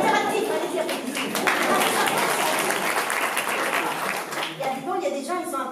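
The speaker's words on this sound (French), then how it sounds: "Allez-y, applaudissez." An audience at a clown performance claps loudly and continuously, with voices breaking in near the end.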